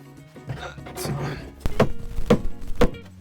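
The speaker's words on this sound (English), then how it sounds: "now I'm gonna put that against there, hit it with a hammer" Three sharp, solid thunks of a hammer striking screws into wood in a camper van build, evenly spaced about half a second apart, following a stretch of faint shuffling.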